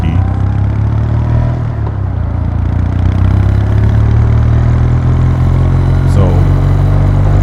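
A Kawasaki W800 motorcycle engine runs close by with a loud, steady, throbbing idle that holds even throughout.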